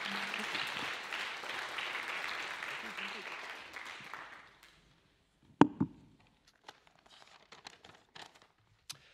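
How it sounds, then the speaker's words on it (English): Attendees at a Royal Society of Canada academic symposium applaud a speaker's presentation, a full sustained clapping that fades out after several seconds, leaving near silence broken by a few scattered taps and small bumps. "So big round of applause, please, for MERLYNA Lim and her presentation."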